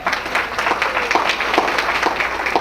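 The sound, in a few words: audience applause at awards ceremony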